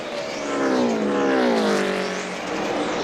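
NASCAR race cars scream past on the last lap of a race, a loud continuous engine roar with pitch sweeping down as the pack passes and then building again, no talk over it.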